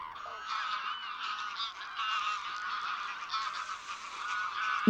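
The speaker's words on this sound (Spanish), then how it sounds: "A finales de septiembre el cielo se llena de gansos salvajes, también conocidos como ánsares." Wild geese (greylag-type ánsares) honk in a dense, overlapping flock chorus in the wetlands of Villafáfila in late September, a steady stream of nasal calls at moderate distance with no talk.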